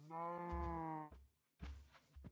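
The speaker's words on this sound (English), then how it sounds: "Oh, two sheep over here." Sheep in Minecraft bleating, one long wavering bleat followed by shorter bleats, faint and close, with no talk over them.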